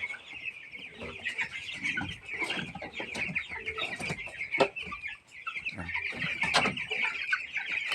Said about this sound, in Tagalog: Yan ang aking mga manok.